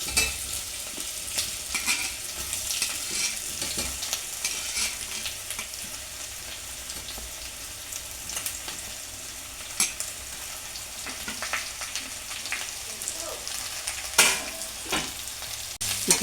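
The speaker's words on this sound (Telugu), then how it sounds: "ముక్కలు వేసుకుంటున్నాను" Potato pieces fry in hot tempering oil, a continuous sizzle broken by the scrape and clatter of stirring, close and fairly loud, with no talk.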